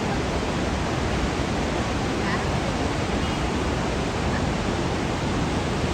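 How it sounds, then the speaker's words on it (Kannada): Water plunging over Chunchanakatte Dhanushkoti Falls below Kabini dam releases near KR Nagara, a steady dense roar filling the whole clip without a break, loud and close. "ಈ ನೀರೇನು ಇಷ್ಟು ಧುಮುಕ್ತಾ ಇದೆ"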